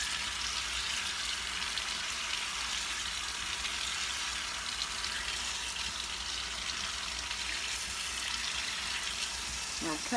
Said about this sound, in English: Okay, I'm going to run a little cold water on them.